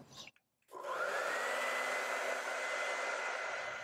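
A hair dryer is switched on after a brief silence and blows continuously at close range, a steady loud whirring hiss, drying wet acrylic paint on a canvas.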